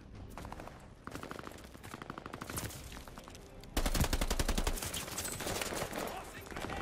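Rapid bursts of automatic gunfire in the multiplayer shooter Call of Duty Vanguard, rattling repeatedly and growing louder and denser midway, with no voices over the steady barrage.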